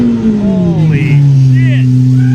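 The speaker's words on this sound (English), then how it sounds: "Isaac's turning up the idle a little bit in the Noble." A Noble supercar at a gas station runs at a raised idle, a steady engine drone with its pitch easing slightly, while people talk over it.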